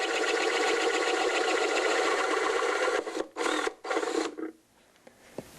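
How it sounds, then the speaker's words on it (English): A drill with a step bit bores a hole in the wooden end block of a mandolin. A steady, buzzing motor drone runs for a few seconds, then cuts out and restarts in short bursts before falling quiet. "in the end block, I'm going to use a step bit."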